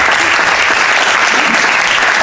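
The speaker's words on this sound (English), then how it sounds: "y'all give it a nice round of applause for WL Pate" A loud, dense round of applause from a crowd, steady and continuous throughout, with no voices standing out.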